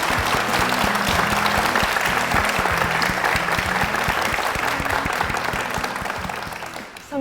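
A church congregation applauds loudly and continuously, with dense, sustained clapping filling the room and background music tones underneath, slowly tapering toward the end.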